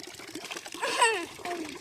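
Tap water runs steadily while a young child washes up, with children and an adult talking over it close by.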